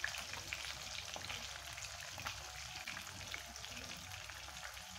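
Pabda fish fry in hot oil with a steady, faint sizzle and scattered small pops and crackles, heard from a distance with no talking.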